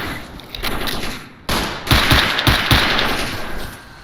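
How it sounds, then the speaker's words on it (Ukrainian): Bursts of rapid gunfire crackle in several short volleys in the video game S.T.A.L.K.E.R. Anomaly 1.5.2, fairly close and sharp, with brief pauses between them. "там хтось стріляє"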